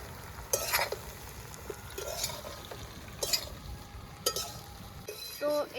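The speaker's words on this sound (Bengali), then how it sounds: "তো এটা একটু যতক্ষণের ভিতরে জল না ছাড়বে একটু নাড়িয়ে চাড়িয়ে দিতে হবে ভালো করে" Taro stems being stirred in a frying pan, with a spatula scraping in several separate bursts over a quiet background sizzle.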